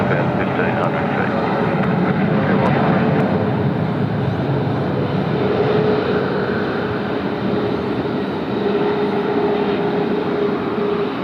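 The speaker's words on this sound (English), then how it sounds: "Is our Qantas 2 service as well, just rolling out" Qantas 2, a Qantas airliner rolling out after landing at Sydney, gives a continuous broad engine roar with a faint whine, steady and fairly loud throughout.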